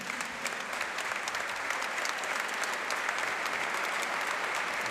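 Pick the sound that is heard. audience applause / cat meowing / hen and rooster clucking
audience applause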